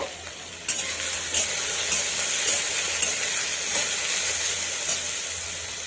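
Taro stolons (kochur loti) frying in a pan, a steady bright sizzle with several sharp scraping strokes of a spatula stirring at a regular pace, close and fairly loud throughout.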